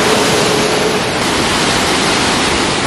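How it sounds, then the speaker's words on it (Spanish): A waterfall at a scenic tourist spot produces a steady, loud, broadband rush of falling water that continues unbroken throughout. "Vean nada más que vista la que tenemos de la cascada."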